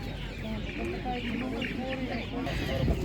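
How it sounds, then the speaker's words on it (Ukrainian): Hens cluck and chatter close by at a Ukrainian livestock market, with the soft calls continuing under someone talking over them. "є ще кури, бачите, ми ці кури пропустили"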